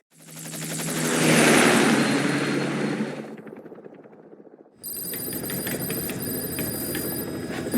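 Helicopter in Metal Gear Solid V: The Phantom Pain, a loud rotor thrum swelling up for about three seconds, then fading, before a sudden shift to steady ringing mechanical tones.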